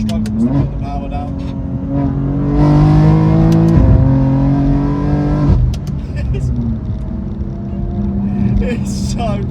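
A 700 bhp BMW G87 M2 accelerates hard, its engine note rising loud and close through a strained run, then easing off before picking up again toward the end.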